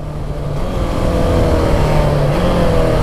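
KTM 690 Enduro R motorcycle engine, loud and close, revving and rising in pitch through a quick blipper-assisted downshift, with steady engine drone and no talking.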